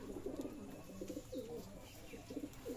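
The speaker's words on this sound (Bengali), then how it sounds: "আমার আরও অনেক কবুতর আছে কিন্তু এই কিছু পাশায় চলে গেছে আর কিছু বাইরে চলে গেছে বাইরে ডাকাডাকি করছে" Pigeons coo softly in repeated low, throaty bursts, several calls in a row, fairly close amid faint background noise.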